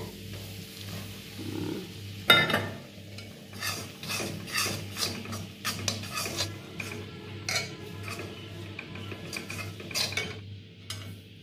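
Rice flour is stirred and fried in ghee for a halwa, heard as repeated close scraping and clinking of a metal utensil against the pan over a faint, low sizzle.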